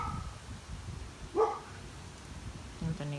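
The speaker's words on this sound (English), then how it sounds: "That's our neighbor's dog." A neighbor's dog gives a single short bark in the middle distance, and a faint second yip follows near the end over low background noise.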